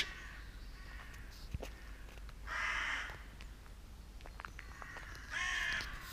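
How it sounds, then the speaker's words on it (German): Ravens caw loudly inside an abandoned factory, with two strong bursts of harsh calls standing out over a steady hum of room noise and scattered clicks. "Ihr Raben, völlig gestört, irrational, euer Krach."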